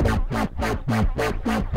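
A heavy, growling dubstep synth bass made in Ableton Live's Operator pulses in a fast, regular wobble, each repeated hit gritty and distorted, loud and alone.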